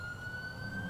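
A police car siren in the video game GTA IV wails as a steady, sustained tone, continuous and fairly loud throughout.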